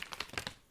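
Keyboard packaging on a FW3C keyboard kit being torn open: a quick run of crisp crinkling rips and rustles up close, several short bursts within a second, with no talking.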